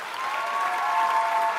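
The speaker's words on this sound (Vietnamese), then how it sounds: "Một tràng pháo tay cho Ngọc Anh và Nguyễn Khánh." Audience applause for a pair of hip-hop dancers on a televised dance competition stage, a steady dense wash of clapping from a large crowd, close and continuous throughout.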